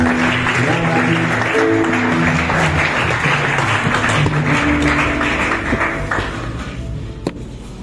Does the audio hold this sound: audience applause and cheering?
yes